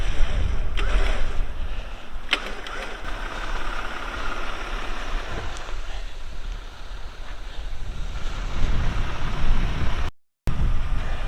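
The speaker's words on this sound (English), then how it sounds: "And it's super windy." Strong wind gusts outdoors and roars across the mic in a steady broadband rush during a hillside vehicle recovery. A low engine hum and a few knocks sit underneath, and the sound drops out briefly near the end.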